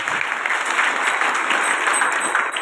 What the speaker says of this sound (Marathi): या सर्व ग्रुपसाठी एकदा टाळी वाजवा